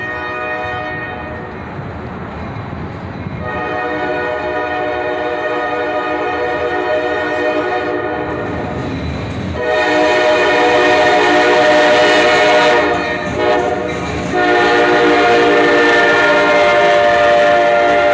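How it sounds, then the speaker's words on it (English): A freight train hauled by a CSX SD70MAC with Union Pacific locomotives approaches, its loud rumble growing, and the air horn sounds in long blasts that build toward the end, with no talk. "We've got another train coming."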